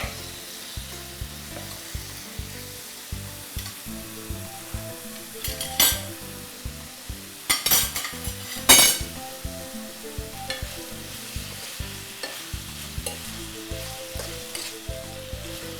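Tomatoes fry for a tajine in a pan with a loud, continuous close sizzle, with the occasional clatter and scrape of stirring rising over it.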